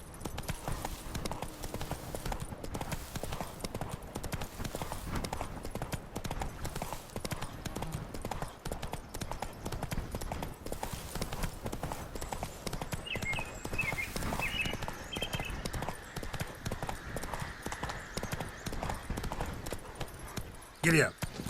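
Horse hooves clip-clop in a fast, steady rhythm throughout a ride in the video game The Witcher 3. The hoofbeats stay moderately loud and close, with a brief louder thump near the end.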